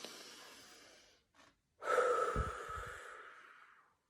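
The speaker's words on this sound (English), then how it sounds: "Take a deep breath in. Blow the house down. Breathe in. And deepest breath." A slow deep breath drawn in and then a long forceful blow out, close and soft, with brief pauses between.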